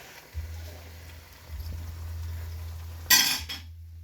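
A crispy fried veg manchurian ball made with carrot is cut through with cutlery, giving a sharp crunchy clink near the end, over a steady low kitchen hum.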